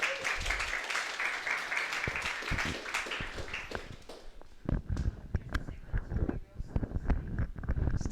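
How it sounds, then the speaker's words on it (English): Audience applause at a live networked performance show, a dense wash of clapping that thins out into scattered claps and shuffling, with some talk underneath. "Preemptive applause, hard to tell."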